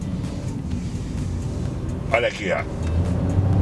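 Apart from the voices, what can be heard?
Chevrolet Onix Plus 1.0 turbo engine accelerating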